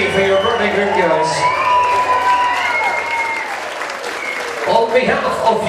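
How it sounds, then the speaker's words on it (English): Wedding reception guests cheer and applaud loudly for a birthday group, a dense wash of clapping with whoops and shouts, while an MC's amplified voice talks over the crowd. "let's take a big cheer for your birthday group"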